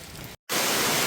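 Rain falling near James Bond Island, a broad steady hiss of close rainfall that drops out briefly and returns louder.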